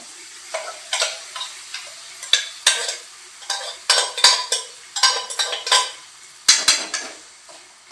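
Boiled mung beans stirred into a tempering in a pot, heard as a close series of irregular scraping and clinking strokes from a spoon against metal, with no voices.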